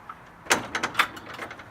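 A door opens with a sharp clack followed by a few rattling, scraping knocks, close and fairly loud in a quiet room.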